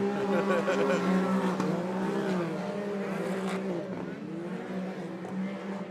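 Side-by-side off-road race cars roar past three wide on a dirt track, engines droning and revving steadily at a moderate distance with a commentator talking throughout.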